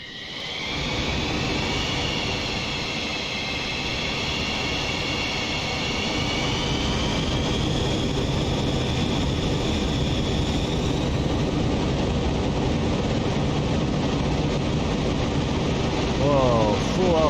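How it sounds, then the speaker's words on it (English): An F-15 Eagle in Microsoft Flight Simulator 2020 spooling up to full afterburner for takeoff, a loud steady jet roar with rising whining tones that builds and holds, dense and close throughout. "full afterburner"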